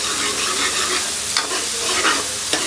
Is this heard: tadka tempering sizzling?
yes